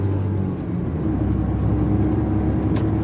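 Engine of a 2009 Smart Fortwo 1.0 pulling after a shift into third gear, a steady close rumble and whir of a small car accelerating without a break, with no talk over it.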